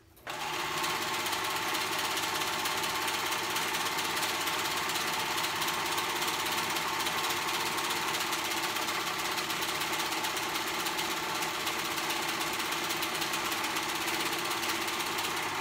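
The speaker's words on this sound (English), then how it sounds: "That way I can just sew when I'm on my serger." A serger stitches fabric for an off-shoulder romper, starting abruptly and then running at a fast, steady, loud mechanical whir for the whole stretch, with no voices heard.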